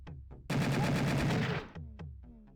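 A burst of AK rifle fire from a Doom mod video game rattles for about a second, loud and dense, set between shorter percussive game sounds.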